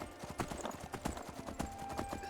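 Horse hooves clip-clop in a steady walking rhythm in Skyrim, fairly close and moderately loud, with ambient game sound underneath and no talking.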